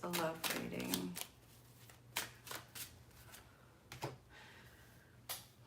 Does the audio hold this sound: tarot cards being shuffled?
yes